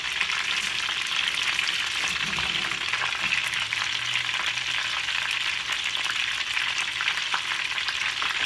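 Pre-cooked lobster frying with green onion and ginger, a dense, loud, unbroken hiss of sizzling oil close up with faint stirring underneath.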